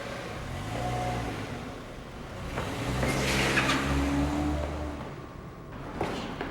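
A Toyota Corolla drives along with a steady engine hum and road rumble, swelling briefly into a louder whoosh midway before easing off, heard from close by with no talk.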